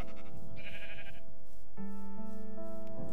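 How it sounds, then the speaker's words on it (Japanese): Sheep bleating in the Minecraft video game, a few short, tonal bleats close together against a faint, steady in-game background. "あ、羊がいっぱいいる。"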